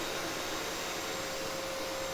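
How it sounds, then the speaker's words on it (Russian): A household vacuum cleaner runs steadily and loudly indoors, a constant broadband roar with a sustained whine and no speech over it. "Пылесос работает."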